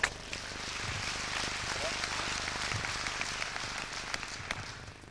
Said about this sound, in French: Applaudissements pour Vincent